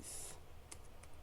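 Quiet typing on a computer keyboard: a brief handful of light key clicks with short gaps between them, faint and close.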